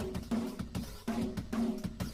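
Processed drum loop from a home-studio pop punk mix, run through flanger, phaser, saturator and vinyl distortion effects, with repeating hits in a steady pattern, smeared and swirling, played alone without talk.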